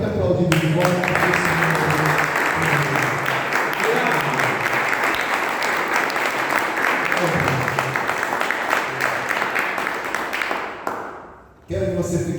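A church congregation applauds during a service, with dense, loud, steady clapping that fills nearly the whole stretch, briefly fades near the end, then picks back up.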